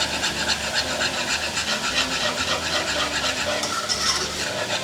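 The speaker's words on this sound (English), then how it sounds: "we're actually going to swap out our spoon for a whisk" A metal whisk stirs milk into a roux in a pan, making a steady, continuous scraping and swishing with a faint bubbling texture, close and moderately loud, with no talking.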